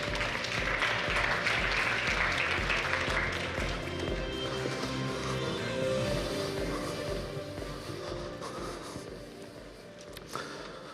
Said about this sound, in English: let's give a big round of applause for Lars of Proper 6.